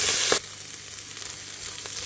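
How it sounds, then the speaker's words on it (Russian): Rice, soaked and then lightly dried, frying in olive oil in a pot gives a steady close sizzle. It opens with a louder burst of crackle and then settles into an even hiss with no voices. "Вот так мы сейчас подсушенный слегка рис обжарим вот в этом оливковом масле."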